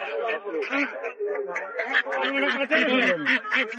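A crowd of ducks at a market, local and Belgian birds together, keeps up loud, overlapping quacking close by, continuous and busy throughout.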